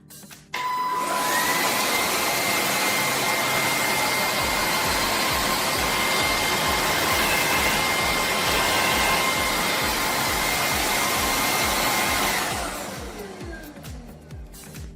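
A Bissell Icon 21V cordless stick vacuum switches on with its brush roll spinning, a loud steady whine with a high motor tone holding for about eleven seconds before winding down, with no talking.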